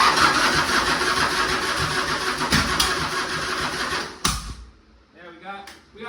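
A 1967 Harley-Davidson Shovelhead FLH motorcycle engine cranks and sputters without choke, running rough and loud before cutting out abruptly. Briefer puttering bursts follow as a voice speaks.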